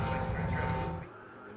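Race cars at Silverstone in a BMW-involved season-opening round roar past loudly and close, the engine noise dropping away abruptly after about a second as they pass.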